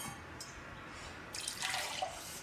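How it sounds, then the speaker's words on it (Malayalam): Water goes into a pot of jackfruit seeds, drumstick, mango and dal for a country-style curry. Faint dripping gives way to a short, brighter splash of pouring near the middle, close by and without speech. "പാകത്തിന് വെള്ളം കൂടി ആക്കി കൊടുക്കുക"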